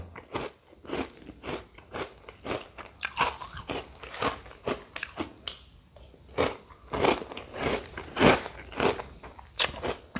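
Mini Cocoa Crunch, a Malaysian chocolate snack, being bitten and chewed close to the mic, a steady run of loud crisp crunches repeating about twice a second with no talking.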